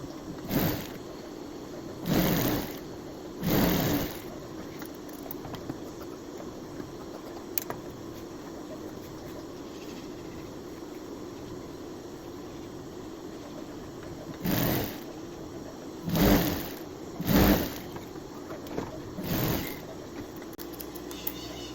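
Sewing machine stitching a quilt block for a bedspread, sewing on a brown fabric piece. It runs in several short bursts of stitching, with quiet pauses between them and no talking.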